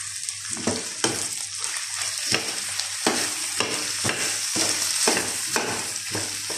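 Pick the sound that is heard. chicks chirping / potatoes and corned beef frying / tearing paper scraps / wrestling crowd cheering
potatoes and corned beef frying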